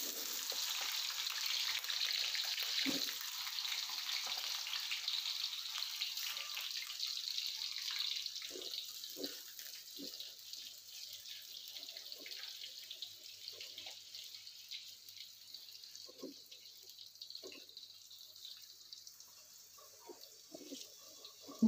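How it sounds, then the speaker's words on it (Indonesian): Eggplant frying in hot cooking oil: a steady, bright sizzling hiss that runs throughout, loud at first and easing somewhat, with occasional soft clicks and pops of utensils and spattering, no talking. "Setelah minyaknya panas, kita goreng terongnya dulu ya teman-teman."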